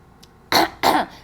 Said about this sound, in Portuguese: Pigarrear, então, você não está limpando nada, você está prejudicando.